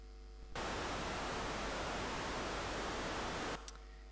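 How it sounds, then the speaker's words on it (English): Dark velvet noise, a smooth, dark-toned synthetic noise signal, plays steadily at even loudness for about three seconds, with quiet moments before and after. "with this dark velvet noise, you will get a spectrum like this then. And it should sound smooth and dark."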